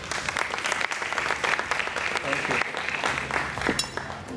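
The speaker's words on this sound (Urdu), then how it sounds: "سب کے لیے تالیاں بجا دیں" Studio audience applause on a Ramadan iftar television show, a dense sustained wash of many hands clapping at steady loudness, with a brief bright flourish near the end.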